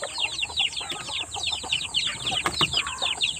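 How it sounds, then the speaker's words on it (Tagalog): Chicks from fighting-cock breeding stock peep in a rapid, overlapping chorus of high chirps, close and continuous, with a few soft clucks underneath and no talk. "so ito mga sisiyo na ito ay ito po yung breeding natin na pangpanabong"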